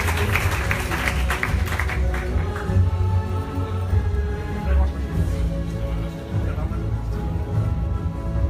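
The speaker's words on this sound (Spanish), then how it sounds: "Un aplauso para el Range Rover" A crowd at a car awards gala claps in a dense, lively burst that thins out over several seconds, with voices talking over it.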